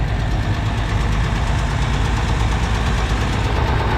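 The engine of a 2290 farm tractor runs loud and steady at a consignment auction, a continuous close rumbling idle with a faint knocking pulse and no talk.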